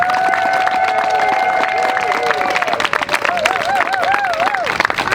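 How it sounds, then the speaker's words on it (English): Crowd applause at an outdoor climate strike rally in Des Moines, Iowa: sustained clapping and cheering fill the air, with sustained whistle-like tones and chatter running through. "Let's give Lillian a big round of applause."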